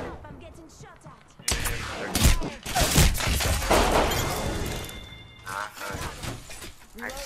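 Rapid bursts of gunfire crackle through a battle royale match, heavy volleys erupting loud and close with brief gaps between them, while a player talks over the shooting.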